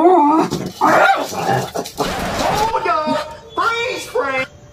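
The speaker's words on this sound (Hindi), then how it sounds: "बाहर कुछ बिल्लियाँ खड़ी थी उसको देख के लीजा गुर्रा रही है" A dog growls and yips at cats standing outside, the close, loud snarls coming in several bursts with short breaks between them.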